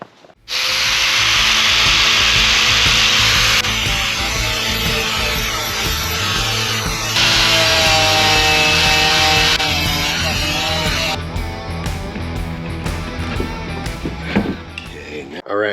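Grinder sanding down a part for a DIY fridge slide platform, a loud, steady, high whine with harsh scraping across most of the clip, then easing off into rougher, uneven noise near the end.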